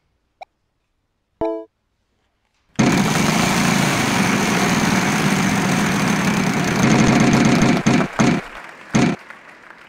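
A spin of the wheel in a Wheel of Fortune video game on the Nintendo Wii U: after two brief blips, a loud, steady rush of rapid clicking and crowd-like noise runs for several seconds, then breaks into short bursts before fading.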